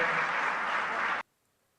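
Loud, dense applause from a hall audience welcoming Amit Shah at a Madhya Pradesh political gathering, sustained evenly for about a second before cutting off abruptly into silence.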